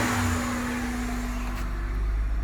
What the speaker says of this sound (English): you can hear the little intake noise